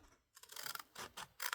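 Scissors snip along the edge of a piece of card in a craft project, a few quick close cuts in short bursts with brief pauses between them.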